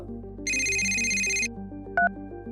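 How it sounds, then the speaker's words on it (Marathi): A telephone rings with bright electronic trills, one long burst then a short one, over soft background music. "त्यावेळी त्यांचा फोन वाजला."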